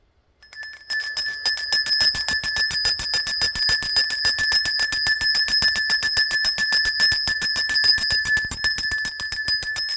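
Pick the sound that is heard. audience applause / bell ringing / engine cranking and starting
bell ringing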